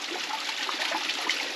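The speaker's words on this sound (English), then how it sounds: "the water has made its way through some like cracks and fissures, and it's coming out through that hole in the side of the stone." Water trickles steadily from a hole in the side of a stone, a weeping rock beside a low-flowing waterfall in a wildlife sanctuary, a continuous close splashing babble with no voices.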